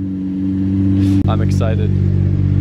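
A Lamborghini-style sports car with scissor doors idles with a loud, steady engine hum, then a short blip as the engine cuts and restarts into a fuller rumble, while a nearby person talks over it.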